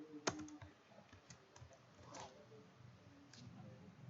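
Quiet keystrokes tap on a computer keyboard while code is typed, a sparse, irregular patter of soft clicks beginning with one sharper tap, heard up close and faint.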